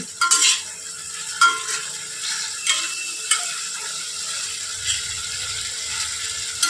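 Chicken for biryani being sautéed in oil in a pot, a steady sizzle broken by repeated clanking scrapes of a spatula against the metal, close and fairly loud.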